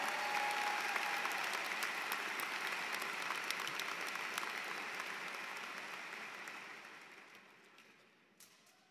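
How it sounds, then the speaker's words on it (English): An audience at an online graduation ceremony for healthcare, liberal arts, nursing and social sciences claps steadily, the dense applause tapering off gradually toward the end before a final stray clap. "Let's give them a big round of applause"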